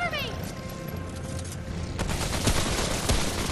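Dense gunfire rattles in the Remnant: From the Ashes shooter, rapid overlapping shots and impacts piling up into a loud continuous barrage with sharper bangs toward the end, mixed with game effects and voices.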